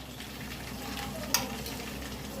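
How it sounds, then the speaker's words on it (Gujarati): Ghee poured onto hot charcoal to smoke a veg biryani gives a soft, close sizzle and hiss with one sharp crackling burst partway through, over a faint steady background. "આ ઘી રેડવાનું ધુંગાર માટે"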